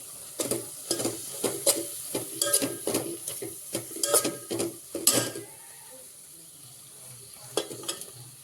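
Village-style mutton curry base with salt, coriander powder, garam masala and a cumin and white sesame paste, stirred and sizzling in a pan. Irregular clattering scrapes of a spoon against metal ride over a steady frying hiss, and no one speaks.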